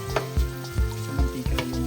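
Ginger sizzles in hot oil while tinola is cooked, a steady close fry broken by a few sharp clinks and scrapes of stirring, with a low hum beneath.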